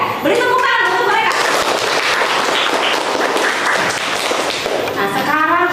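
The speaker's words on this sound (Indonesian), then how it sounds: "Beri tepuk tangan untuk mereka." Classroom of students bursting into loud, dense applause for classmates during a civics (Pancasila) lesson; a teacher's voice is heard briefly before the clapping swells and again as it fades.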